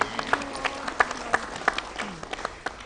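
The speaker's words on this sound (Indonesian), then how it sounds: "Kita tepuk tangannya meriah." An audience at a televised community event bursts into applause, scattered sharp claps rising and falling over a few seconds with a crowd murmur underneath.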